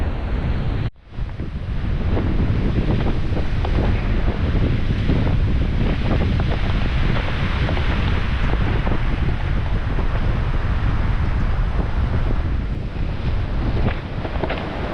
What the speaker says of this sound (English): A little bit, a little bit windy.